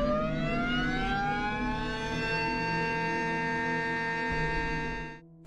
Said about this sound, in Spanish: Darley Champion. Una mezcla vibrante de tonos agudos que acelera el corazón.